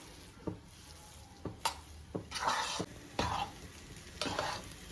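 Poppy seed halwa, thickening and binding, is roasted and stirred in a pan: soft low sizzle with sharp spoon knocks and several scraping bursts of stirring, close and quiet, no voices.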